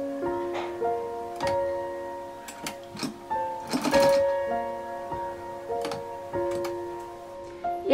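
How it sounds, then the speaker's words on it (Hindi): A domestic sewing machine stitches fabric strips together for a padded doormat, giving close mechanical ticking and clacking with tonal hums and pauses between short runs, and no speech over it. "तो ऐसे ही सभी पट्टियों को सिल लेते हैं।"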